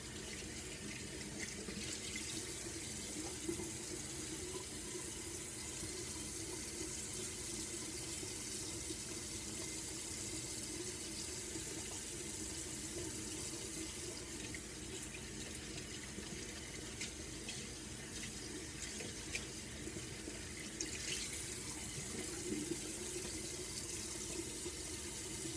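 Tap water runs steadily into a sink as a Norwex makeup wipe is rinsed clean of foundation, a continuous, even splashing hiss lasting the whole stretch, quiet and close, with no speech.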